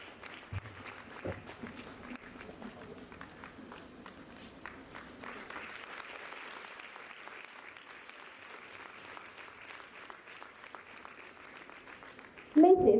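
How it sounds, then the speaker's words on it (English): An audience at a girls' school annual academic awards ceremony applauds staff members with continuous, moderately distant clapping that swells midway; a voice begins speaking right at the end. "Please give a big round of applause as we appreciate the following staff members"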